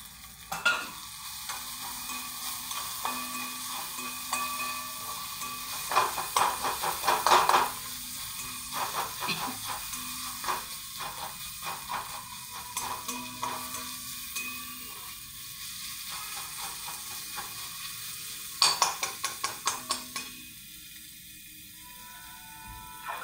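Ground masala paste frying in a pan for a pea curry, stirred with a spoon that scrapes and clatters against the metal in bursts over a steady sizzle, with no voices.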